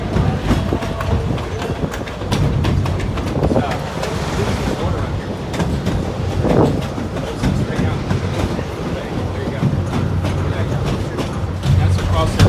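A small amusement park railroad train rolls along with continuous rumble and rhythmic clacking of wheels, a few faint voices mixing in the background.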